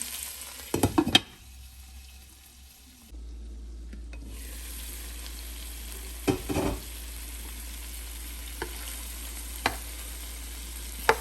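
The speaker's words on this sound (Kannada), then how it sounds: "ಇನ್ನೊಂದು ಹತ್ತು ನಿಮಿಷ ಇದನ್ನು ಅದೇ ಥರ ಫ್ರೈ ಮಾಡೋಣ" Chicken drumsticks frying in a pan for a Kerala-style fry, a low steady sizzle under a constant hum, with a few sharp clatters of utensils early on and scattered faint clicks later.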